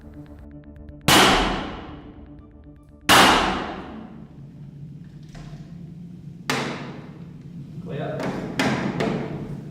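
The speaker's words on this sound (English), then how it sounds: "What they're doing here is shooting a suspect's gun" A suspect's handgun is test-fired for forensic bullet analysis in a lab, giving a few loud sharp shots with ringing decay spaced a couple of seconds apart, followed by quicker bursts, while a voice calls out briefly.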